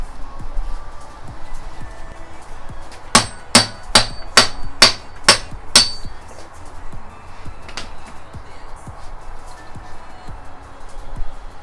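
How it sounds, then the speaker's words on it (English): A hammer taps a Honda CRX axle into place with seven sharp, evenly spaced metallic strikes, close and loud, followed by a couple of fainter knocks over a quiet workshop background. "All I did was actually just set it on the ground facing up and tapped it with a hammer."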